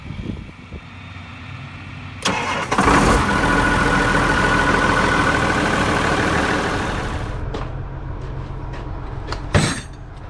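A John Deere 720 tractor engine rumbles steadily at idle while warming up, loud and close, with a few clanks at the start and end.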